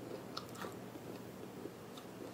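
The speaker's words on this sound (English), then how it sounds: "I don't know if you can hear the crunch." Raw vegan Italian flax seed crackers crunch faintly as they are bitten and chewed, a few soft crisp snaps over a steady low hiss.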